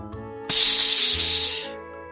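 Steam escaping from a coal-fired steam train, a loud sudden hiss that bursts on, holds steadily for about a second, then tapers off alone.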